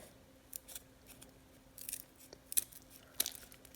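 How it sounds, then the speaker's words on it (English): Scissors snip through thin wood in a few separate sharp cuts, close and fairly quiet, with short pauses between them and no talking. "you should be able to use your scissors here to cut these out"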